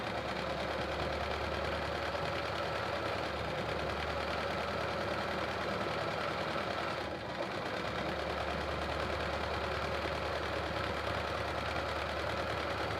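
A sewing machine doing free-motion quilting runs in a steady, continuous mechanical hum for the whole stretch, loud and close, with only a brief dip near the middle.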